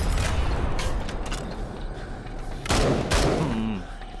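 Gunfire in the zombie shooter game Into the Dead 2: a few loud shots and mechanical clacks over constant rumbling game noise, with a sharp pair of blasts near the end.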